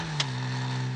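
Cartoon race car engines rev hard in a final sprint to the finish line, a steady loud droning engine tone with a brief sharp burst near the start, no voices.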